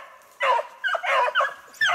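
Beagles chasing a snowshoe hare bay and yelp in short, urgent bursts, three or four cries in quick succession, fairly close and loud with quiet gaps between.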